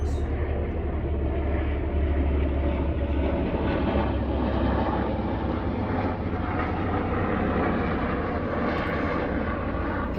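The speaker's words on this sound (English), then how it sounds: "Helicopter overhead." A helicopter flies overhead, its steady rotor and engine roar loud and constant with no talk over it.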